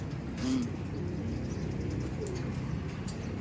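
Soft dove coos, a low hollow call near the start and another later, over a faint steady background hum.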